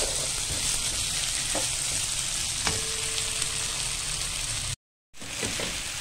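Beef pieces frying and being stirred in a pan, giving a loud continuous sizzle with a few scraping strokes of the stirring. The sound drops out briefly near the end and then comes back.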